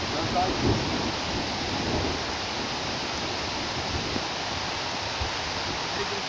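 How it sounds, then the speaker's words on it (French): Heavy rain pours outdoors in a thunderstorm, a loud dense hiss that holds steady and close throughout, with no pause. "Il pleut trop"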